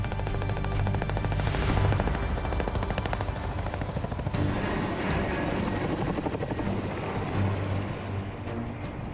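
A Chinook twin-rotor helicopter hovers close by over a tree line, with a loud, steady rotor thump and turbine roar that carries on throughout.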